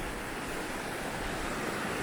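A mountain river and its waterfalls in the Alps roar steadily at a moderate distance. The broadband rushing stays constant and unbroken throughout, with no voices.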